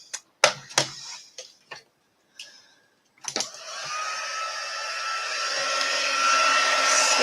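Several light taps come first, then a hair dryer switches on and blows loudly and steadily to dry a loose watercolour wildflower painting.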